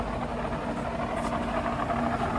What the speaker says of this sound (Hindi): We are further increasing the speed of the spindle.